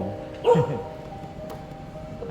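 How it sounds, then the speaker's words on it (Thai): A dog gives a single short bark nearby while a Suzuki senior mobility vehicle with a 24V lithium battery hums quietly and steadily underneath. "หมาเห่านะครับ หมาเห่า"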